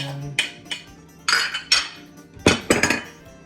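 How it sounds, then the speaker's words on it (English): Greek quinoa salad with onions, tomatoes, Kalamata olives and cucumber being mixed in a bowl: a few separate bursts of clinking and scraping of utensils against the dish, close and fairly loud, with quiet gaps between. "Give this a nice mix."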